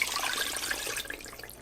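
Two cups of water are poured into an 8-quart Instant Pot, a steady close splashing trickle that thins out toward the end.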